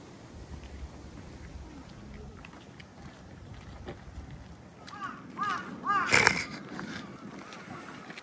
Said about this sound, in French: au cri des corbeaux.